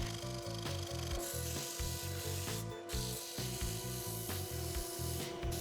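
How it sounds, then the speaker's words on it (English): Sanding a wooden omelette flipper, a rapid rhythmic rasping with a steady mechanical hum beneath it, close and continuous with no talk. "Here I also sand and apply some oil."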